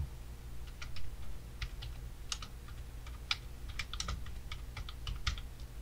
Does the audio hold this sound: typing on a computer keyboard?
yes